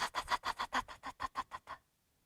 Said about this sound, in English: Some sprinklers make a steady whispering sound like this